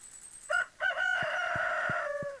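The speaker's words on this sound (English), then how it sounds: "that sounded like multiple chickens" Chickens in the Stardew Valley video game call out in a couple of short bursts, then one long, loud, overlapping crow-like cry, with soft regular thumps beneath it.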